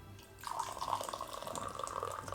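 Boiling water poured for roasted Dancong oolong tea, a steady close trickle and splash that starts abruptly after a brief quiet moment and runs continuously to the end.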